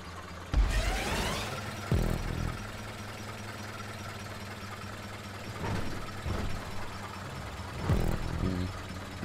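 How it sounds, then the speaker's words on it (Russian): Tractor engine in GTA 5 Online, a steady idling rumble with several sharp bursts of revving and clunks as the vehicle rolls along a road, no talking. "Так, продолжаем на тракторе нашем катить по дороге."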